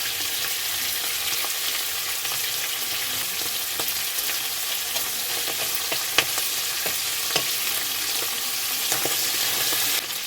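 Bay leaf, dried red chilli and panch phoron sizzle in hot oil in a pan that still holds prawns, for a pumpkin and prawn ghonto, a loud continuous frying hiss with small crackles and occasional stirring clicks.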